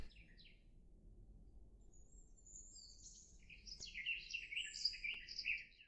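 Birds chirp and twitter in the video game A Farewell to Dragons, bright calls clustering in the second half, growing louder and denser over a soft steady ambient hum, with no talk.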